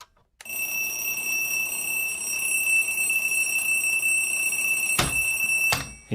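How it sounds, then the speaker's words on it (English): An alarm clock rings in a continuous, piercing electronic tone that holds steady for several seconds before cutting off, with a couple of sharp clicks near the end. "because once that alarm goes off"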